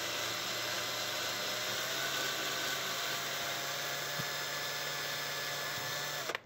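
Power drill boring holes into PVC pipe for a DIY aeroponic cloner, a steady, close, high-pitched whirring drone that runs continuously and then cuts off abruptly at the end.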